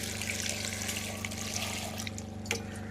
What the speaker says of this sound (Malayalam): വെള്ളം ഇങ്ങനെ ഒഴിച്ചു കൊടുക്കാം.